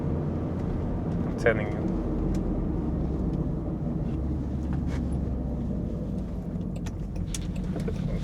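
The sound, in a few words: 2022 Land Rover Defender engine at full throttle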